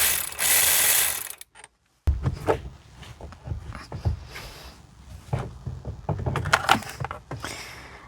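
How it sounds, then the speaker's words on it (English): An electric ratchet backs out a T50 bolt on a Ford Bronco, giving close, rapid mechanical ratcheting and whirring in several uneven bursts, with a short burst of loud noise at the start and no talking. "we're going to go ahead and use the electric ratchet to remove it"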